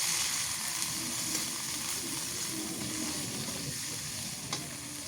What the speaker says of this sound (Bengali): এখন এই মশলা বাটা দিয়ে দিই আদা রসুন জিরা গরম মশলা